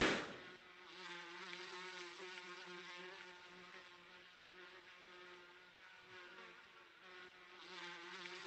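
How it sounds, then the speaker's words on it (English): Swarming bees in the video game Gorilla Tag drone in a steady, layered buzz that wavers slightly in pitch, faint and continuous throughout with no talk. "How many bees can you spawn at once?"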